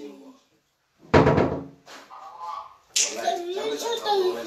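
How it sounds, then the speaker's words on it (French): A door swings shut with a sharp, loud slap, followed by further knocks and movement while people talk nearby. "Fais la porte."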